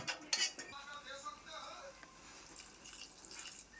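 A utensil clinks and scrapes against a pan while Maggi noodles and pasta are mixed together. The sounds come as light, irregular clatters under soft speech.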